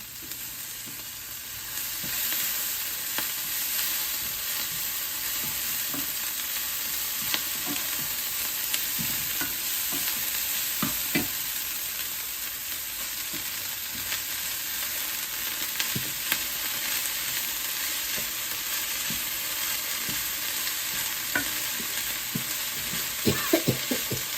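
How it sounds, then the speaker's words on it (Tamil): Chopped kale stir-fried and tossed in a pan for a kale wara, a steady sizzle running throughout with scattered scraping clicks of a spatula, alone with no voices. "வெட்டி வச்சிருந்த கெயில இதோட மிக்ஸ் பண்ண போகிறோம், இதோட ஆட் பண்ண போகிறோம்."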